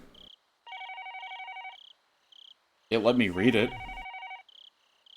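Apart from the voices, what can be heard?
telephone ringing in the video game Higurashi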